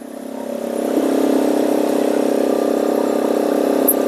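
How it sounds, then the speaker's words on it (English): A Suzuki Address scooter engine idles at a red light, a steady close mechanical hum and whir that swells slightly in the first second, then holds even with no talking. "Let's turn off the engine"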